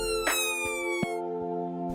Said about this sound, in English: When the siren goes on again, that's your cue to let it go past.